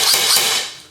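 A single short mechanical burst from a G&P Magpul MOE PTS airsoft gun fired in semi-automatic, a bright, close, hissing clack that fades within a second, with no voices.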